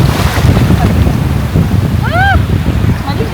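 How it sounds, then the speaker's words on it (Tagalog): Sea waves and wind at a beach make a steady, loud roar with gusty microphone buffeting throughout, and a short whistling tone rises briefly near the middle. "Ngayon ko lang na-realize na dagat tayo."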